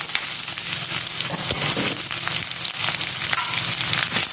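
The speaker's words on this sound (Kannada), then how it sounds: "ಈರುಳ್ಳಿ ಹಾಕಿ ಹೀಗೆ ಈರುಳ್ಳಿಗೆ ಕಲರ್ ಚೇಂಜ್ ಆಗಿರೋದು ಮಿಕ್ಸ್ ಮಾಡ್ತೀನಿ" Onions sizzling and being mixed in a pan for a simple chicken fry, a loud, dense, continuous crackle with spoon scrapes throughout, close up and with no speech.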